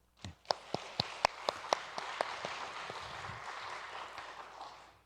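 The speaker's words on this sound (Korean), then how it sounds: "잠시 감사와 격려의 박수를 드렸으면 좋겠습니다" Faint applause from a church congregation opens with a few sharp, evenly spaced claps, then swells into soft, steady clapping from many hands that slowly fades.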